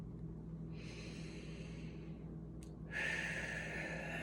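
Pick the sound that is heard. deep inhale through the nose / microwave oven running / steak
deep inhale through the nose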